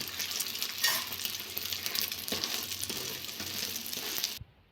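Egg frying in a pan for homemade egg rolls, a steady close sizzle with light crackle throughout that cuts off abruptly near the end.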